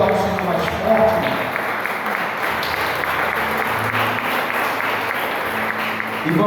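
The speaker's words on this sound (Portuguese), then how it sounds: "Você pode aplaudir ao Senhor mais forte." A church congregation applauds during a Portuguese-language worship service, steady sustained clapping with crowd noise and some voices underneath.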